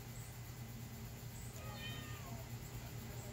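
A pet cat lets out a short, faint meow partway through, set against a steady low background hum.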